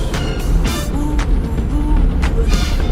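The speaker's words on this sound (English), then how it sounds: "We're in the car wash." Inside an automatic car wash, a car sits while dense water spray and brushes drum and hiss steadily against the body, with repeated rhythmic swishes and thumps passing over it.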